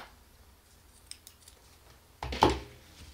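Scissors snip crochet yarn up close, a faint tick or two followed by one quick, crisp cut.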